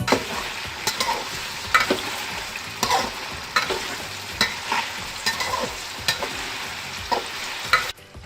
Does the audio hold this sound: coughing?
no